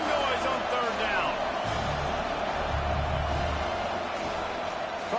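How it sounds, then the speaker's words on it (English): Stadium crowd roaring on third down in College Football 26 during a Georgia game, a dense and continuous wall of loud cheering and noise with a commentator's voice running over it. "This dog crowd is off the leash, and they are coming after them, bringing noise on third down."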